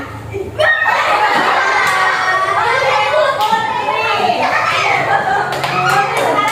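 Children in a primary school classroom doing a clapping game, loud, energetic claps mixed with excited shouting and chatter, continuous throughout with sharp clap accents near the end.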